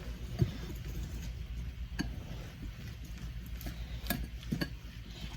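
Spoon stirring keto brownie batter made with cottage cheese in a bowl, a steady low scraping churn broken by a few sharp clinks of utensil against the dish, close by with no talking.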